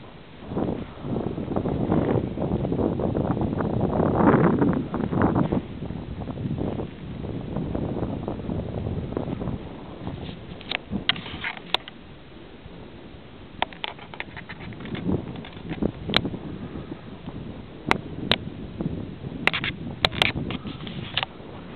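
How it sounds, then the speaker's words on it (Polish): Gusty wind blows beside an ice-covered lake at Landmannalaugur, Iceland, strongest and most continuous early on, then easing into lighter rumbling gusts with brief crackling ticks near the microphone. "trochę wiaterek dmucha"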